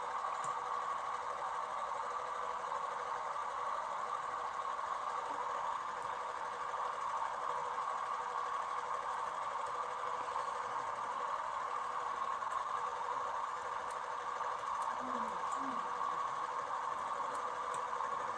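A ship's engine idles in the engine room in Stormworks, a steady, even mechanical hum with a constant drone that never changes pitch, heard alone and at a moderate distance for the whole stretch.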